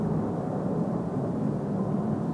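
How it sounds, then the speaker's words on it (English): A low, steady roar of airplanes flying over a house, heard from inside a bedroom, continuous and fairly loud as a broad rumble throughout without any talk. "I have planes flying overhead my room like all the time."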